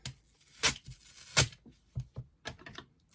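Scissors snip through cloth binding tape in a few sharp, close cuts, each a brief crisp crunch separated by short pauses, with a quick cluster of smaller snips toward the end.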